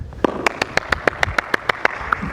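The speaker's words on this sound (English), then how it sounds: "I gotta clap my hands as many times as I can before catching." Hands clapping rapidly during a ball-catching coordination exercise in an elementary physical education class, about a dozen sharp, evenly spaced claps close by in quick succession.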